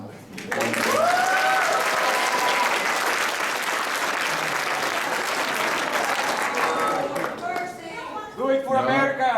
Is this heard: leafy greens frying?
no